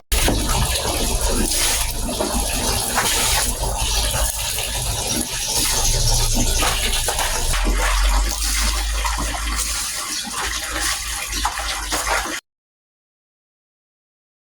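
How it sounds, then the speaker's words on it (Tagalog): Used laundry rinse water pours steadily into a waiting bucket and basin, a continuous loud splashing and gushing that runs unbroken for about twelve seconds, close by, with no talk, then cuts off abruptly. "Nilalagay ko po din sa nakaready na pong timba at palanggana para po pwede ko pong ipandilig ng halaman."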